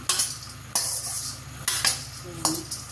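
Something frying in a pan while a metal spatula scrapes and knocks against it, giving a constant bright hiss punctuated by several clinking strokes, close by.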